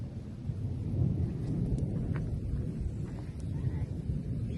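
Monsoon rain falls in a rural farming area with a low, steady rumble of thunder underneath and a constant wash of rain and wind, with nobody speaking.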